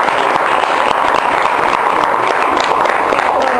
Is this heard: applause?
yes